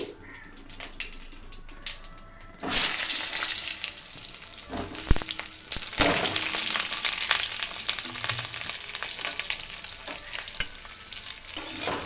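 Pointed gourd frying in oil with fennel seeds, starting with a quiet background and then breaking into a loud, continuous sizzle. Scraping and stirring knocks land throughout, and a few sharp clatters of a utensil against the pan stand out.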